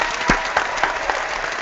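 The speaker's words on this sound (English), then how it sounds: "Giving you a big round of applause over here." Audience applause at a neat-living event, a short burst of scattered clapping with a few sharper individual claps standing out, fairly close and without voices.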